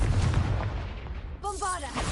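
Spell explosions from Bombarda in a Hogwarts video game: a heavy low blast burst at the start, then bright magical tonal effects, with speech-like voicing mixed over the game sounds.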